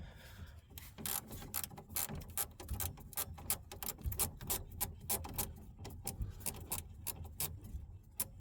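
Ratchet wrench with a 7 mm socket working a fastener on a Renault Express 1.1 during a coolant change and water pump replacement, a close, rapid run of metallic clicks in bursts, with no speech.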